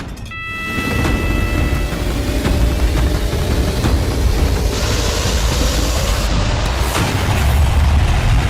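A new Tata Sierra slams into another car in a car-to-car crash test in India, a loud sustained rumbling roar that swells after a brief lead-in and holds steady.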